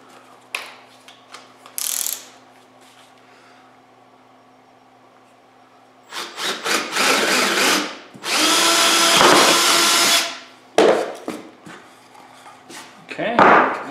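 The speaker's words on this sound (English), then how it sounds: "Drill this" A power drill whirs in several loud bursts of a few seconds each, drilling a 17/64-inch hole in wood in a workshop, separated by pauses and quieter handling noises.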